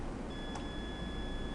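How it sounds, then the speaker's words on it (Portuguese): An ATX power supply tester hooked to a 24-pin plus P4 PC power supply gives a steady, continuous electronic beep, a thin high tone held over a constant background hiss. "Está bipando, não deveria bipar."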